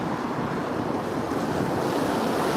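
Sea surf washes steadily onto the Baltic coast near Kaliningrad, a continuous broadband roar with wind noise on the microphone and no talking.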